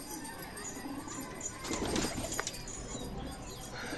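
Pigeons coo softly at a loft, with a burst of wing flapping rising midway and a few sharp flutters, all fairly faint against a busy background.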